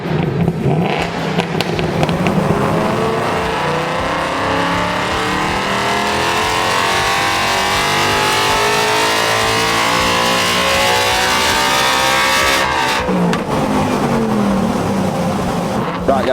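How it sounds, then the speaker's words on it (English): Ford Mustang Mach 1 fitted with Comp Cams, running hard on a dyno: a loud, sustained V8 roar that climbs steadily in pitch through a long pull, then drops off abruptly near the end. "it's time to put the car on the dyno and we're going to see what figures it's going to make"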